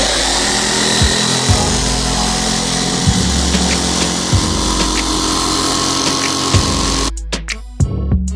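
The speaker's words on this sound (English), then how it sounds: "Jigsaw ready to go." A jigsaw cuts the top off a fish tank, a loud steady buzzing whine with periodic knocks and thumps, stopping near the end.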